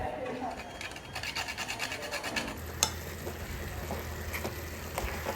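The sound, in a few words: grating nutmeg into coconut and jaggery filling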